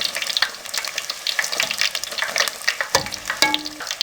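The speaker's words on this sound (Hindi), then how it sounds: "माशाल्लाह बहुत अच्छे तरीके से पूरी फ्राई हो चुकी है" Puri frying in hot oil, a busy crackling sizzle close by with bursts of bubbling and a brief clatter near the end, no voices.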